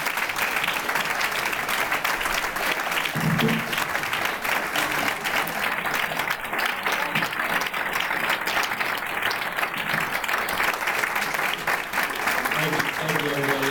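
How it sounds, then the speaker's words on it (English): An audience gives Jeff Vinik a sustained round of applause at a Tampa Tiger Bay meeting, with dense, steady clapping throughout and faint voices mixed in. "let's give Mr. Vinik a huge round of applause"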